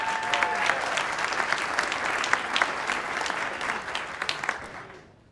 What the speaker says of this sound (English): He wants to give her a proper round of applause